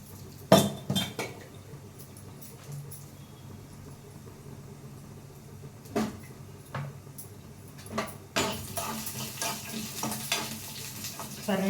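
Peanuts fry in a pan for chutney with a faint, steady sizzle, broken by clinks and scrapes as a utensil stirs them, the stirring growing busier toward the end.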